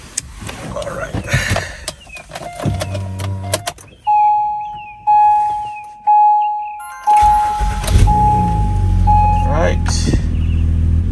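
An Acura MDX after spark plug replacement: door and cabin sounds, a series of four chimes, then the engine cranks and catches into a loud steady idle near the listener, with brief talk before it.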